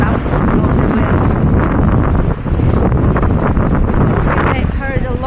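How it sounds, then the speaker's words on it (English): Strong Patagonian wind in Ushuaia buffets the microphone in a loud, constant roar with gusty surges throughout. "It's really windy."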